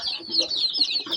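Baby local chicks peeping while feeding, a rapid run of high, thin chirps overlapping close by, busy and continuous through the short moment with no talk.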